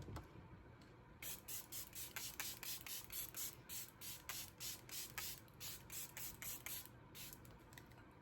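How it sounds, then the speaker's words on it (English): Tier Mask Fit Makeup Fixer setting spray misting from its bottle in a rapid run of short, close hissing bursts, repeating steadily for several seconds with no talking. "So first spray is the Tier Mask Fit Makeup Fixer."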